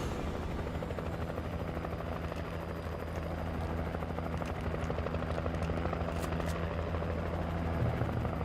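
A helicopter in Alan Wake thrums steadily and continuously with a low rotor drone, holding fairly level throughout with faint higher clatter on top.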